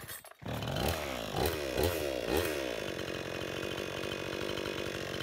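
A 52cc Chinese clone chainsaw, left sitting in the sun, catches after a brief pull and revs in a few rising bursts, then drops into a fast, buzzing idle, close and loud, with no voices.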